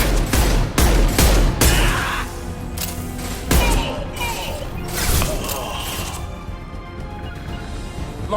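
Gunfire rattles through a Mass Effect 2 firefight: sharp rapid shots and bursts hit loudly in the first seconds, then scattered cracks and impacts continue under a busy combat din.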